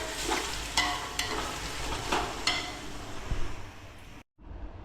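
Steady sizzling of onions frying in a pan for pav bhaji, with a few stirring scrapes and light clinks, continuous and close, ending in a brief silence.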